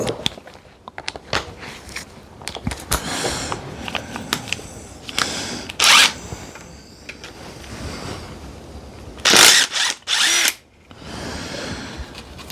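A power tool fitted with an extension drives long bolts on a Honda GL1000 Goldwing during restoration, loud whirring and ratcheting bursts between quieter handling clatter, close up, with several distinct short runs near the end.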